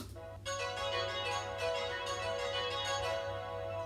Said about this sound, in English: 2 chimes.